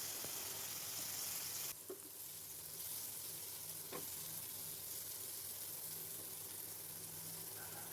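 Prawns sizzle in white oil on a tawa as a close, even frying hiss, with a few clinks and stirring knocks scattered through it.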